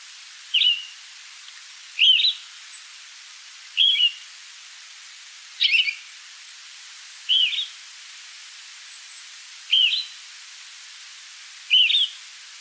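Seven short, separate finch calls, each a brief high chirp, spaced at roughly even intervals about two seconds apart, clear against a quiet background with no other sounds.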